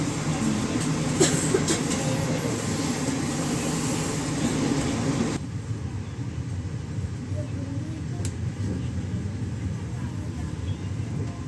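KA Majapahit, an economy passenger train running between Jakarta and Malang, rumbles along with a steady low roar and rattle that drops to a quieter hum partway through, with people talking faintly inside.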